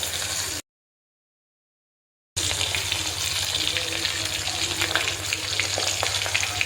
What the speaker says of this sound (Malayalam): ചൂടായി വരുമ്പോഴത്തേനും നമുക്ക് ഈ മീൻ കഷ്ണങ്ങൾ ഓരോന്നായിട്ട് ചേർത്ത് കൊടുക്കാം